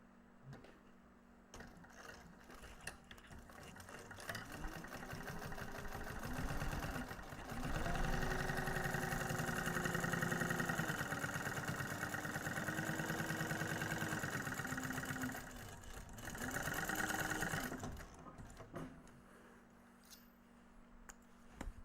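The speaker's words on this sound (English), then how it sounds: "Sew that together." Home sewing machine stitching fabric pieces together for a Tumbleweed pattern, a mechanical hum that rises and falls in several runs of steady, rapid needle strokes, close and alone with no speech.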